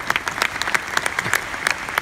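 Audience of school students at a Sultan Qaboos University summer program clapping together, a dense, steady round of applause from a crowded room with sharp hand claps throughout, no talking.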